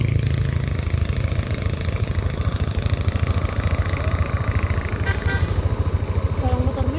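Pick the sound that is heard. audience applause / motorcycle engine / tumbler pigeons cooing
motorcycle engine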